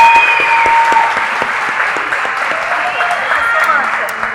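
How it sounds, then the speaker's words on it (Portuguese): A live podcast audience gives loud, dense, sustained applause as a guest comes on stage, with voices mixed into the clapping throughout. "eu gostaria que todo mundo batesse muitas palmas e recebesse no palco"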